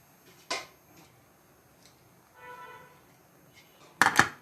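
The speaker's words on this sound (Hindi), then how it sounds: "मैं इसे कर दूंगी कुकर बंद" Clattering metal clicks of a pressure cooker lid being fitted and shut over karela gosht, a sharp clank early, faint scraping, then a louder rattling clunk at the end.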